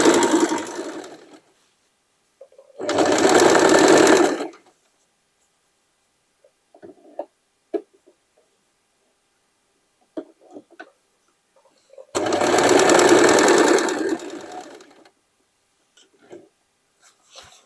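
A sewing machine stitches over overlock seams on denim in two separate bursts of rapid whirring lasting a couple of seconds each, close by, with quiet handling clicks and rustles in between.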